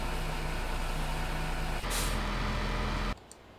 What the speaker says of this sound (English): Comes the other truck.